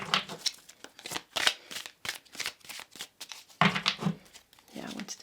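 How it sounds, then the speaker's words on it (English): Tarot cards being shuffled by hand, with rapid bursts of riffling and flicking paper snaps in an uneven rhythm, close and clear, while a person talks over it. "So let's see also your tarot cards here. Let's do a little shuffle."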